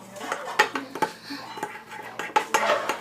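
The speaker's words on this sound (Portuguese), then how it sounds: "agora eu vou mexer primeiro pra ver como que a slime vai ficar" Slime is stirred in a container with wet clicks and scraping knocks of a utensil against the sides in quick bursts, with a voice speaking softly nearby.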